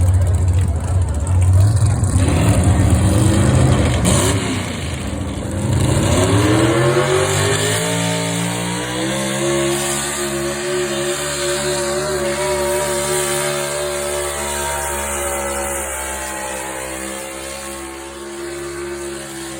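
A pickup from North Dakota roars through a truck pull in Wisconsin, its engine loud and close, climbing into a long sustained high rev that holds steady, while an announcer talks over it.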